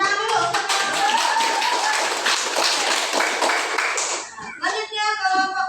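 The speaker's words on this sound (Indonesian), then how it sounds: "Tepuk tangan dulu." A group of students claps together for about four seconds, brisk and fairly close, before the clapping stops and a voice speaks.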